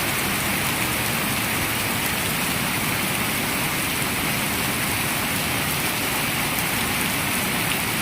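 Steady rain pours down under an overcast sky beside a road, a dense, continuous hiss of drops striking surfaces that stays loud and even throughout, with no voices.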